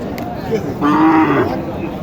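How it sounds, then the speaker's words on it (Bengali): A Nepali cow at a busy cattle market in Naogaon lets out one loud, drawn-out moo close by, with crowd murmur and market bustle underneath. "এটা একটি নেপালি গরু"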